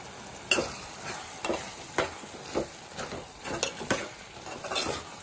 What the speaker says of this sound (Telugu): కొంచెం కారం 2 స్పూన్లు కలుపుకుందాం.